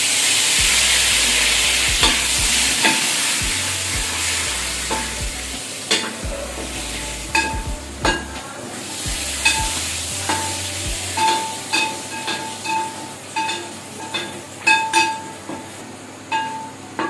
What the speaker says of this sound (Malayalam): ഇതിലേക്ക് കറിവേപ്പില ചേർത്ത് കൊടുക്കാം